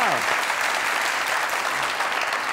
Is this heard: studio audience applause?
yes